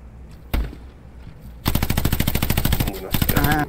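Gunfire in the World War II shooter Hell Let Loose: one loud shot, then a rapid automatic burst of many close, evenly spaced cracks that runs on and picks up again near the end.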